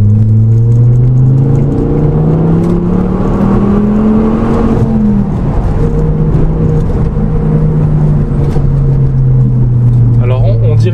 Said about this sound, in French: On va faire une petite accélération pour ce que ça donne.